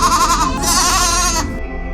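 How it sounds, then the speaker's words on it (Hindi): A goat gives one drawn-out, wavering bleat lasting over a second, fairly loud and close, then breaks off into quiet. "सहस्त्रार की बकरी"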